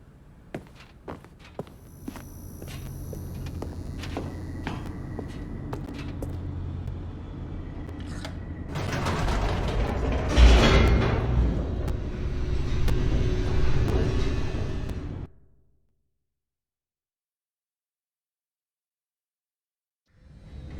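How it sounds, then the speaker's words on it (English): An elevator descends in The Stanley Parable with a long rising mechanical rumble and rattling that swells, then cuts off abruptly into silence, with a few clicks before it starts. "The elevator raced downward"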